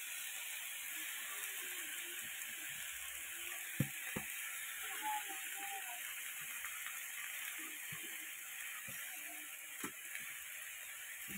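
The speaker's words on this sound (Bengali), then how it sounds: "পালং শাকগুলো দিয়ে ভালো করে নেড়ে ভেজে দেবো।" Spinach added to already fried vegetables in a hot pan, sizzling and being stirred. A steady, close frying hiss runs throughout, with occasional light clicks of the spoon against the pan.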